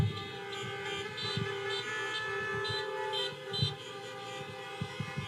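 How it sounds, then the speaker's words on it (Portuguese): Car horns honk at a drive-in church service, with scattered short toots and longer blasts from several vehicles sounding at a distance over a steady outdoor hum. "Dá uma buzinada aí."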